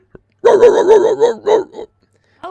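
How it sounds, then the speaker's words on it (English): A dog barks and whimpers in a loud, close burst of yelping howls lasting about a second and a half, then falls silent, heard as a sound effect in a Call of Cthulhu horror tabletop game. "you hear the howling of a dog chasing after you"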